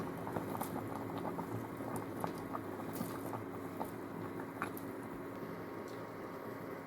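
Lenten Poltava-style borscht with potatoes, beans and cabbage boils in a pot, giving a steady, close bubbling and simmering patter that runs evenly throughout with no one talking.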